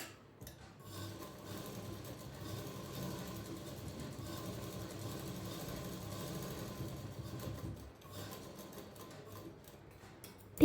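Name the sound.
sewing machine stitching blouse fabric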